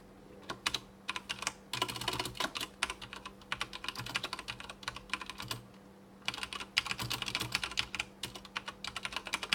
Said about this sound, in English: Let's go ahead and type those lyrics in now.